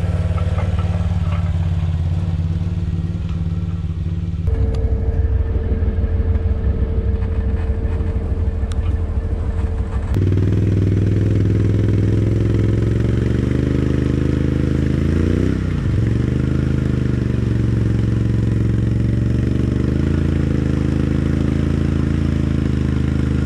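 A vehicle engine idles after crossing a big water hole, making a loud, steady low rumble with shifting tones as the engine note changes a few times, including a brief pitch dip, and no voices are heard.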